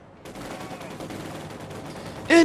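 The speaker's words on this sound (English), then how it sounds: "We have a Sturmovik attack. IL-2 will start strafing in a second." A Sturmovik IL-2 aircraft strafes in a strategy game, a rapid, continuous machine-gun rattle that starts abruptly and holds steady, ending with a brief louder tonal burst.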